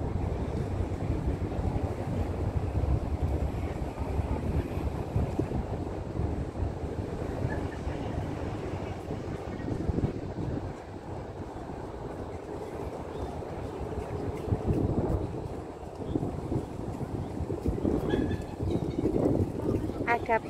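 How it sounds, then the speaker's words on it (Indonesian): A fuel-carrying boat passes on the harbour water at Quarry Bay, Hong Kong, with a continuous low engine rumble mixed with water and wind noise; a person talks at times over it. "Ada perahu yang ngangkut apa ya namanya, kayak ngangkut bahan-bahan bakar ya"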